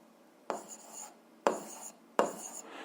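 Pen strokes scratch on paper as a maths solution is written out. Three short, close bursts of writing are separated by brief pauses, with no voices.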